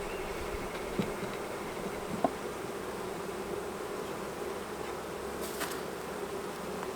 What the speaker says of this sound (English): So we have bees